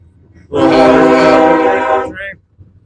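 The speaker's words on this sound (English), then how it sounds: "Perfect timing on the horn" A train passes close by and sounds a long, loud horn blast of about one and a half seconds with a strong harmonic tone that cuts off sharply, leaving faint rumble before and after.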